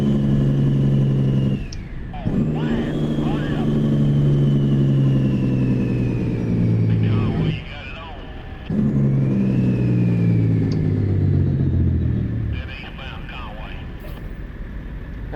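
A heavy truck engine in American Truck Simulator drones loud and steady with a deep, layered hum, broken by brief drops in pitch and volume where the engine brake engages and the revs fall away.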